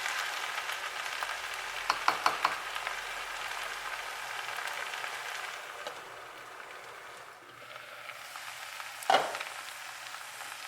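Onions for onion soup fry and brown in a pan with a soft, steady sizzle and crackle, marked by a few brief stirring clicks and one sharper scrape near the end.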